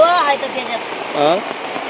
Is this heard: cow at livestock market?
no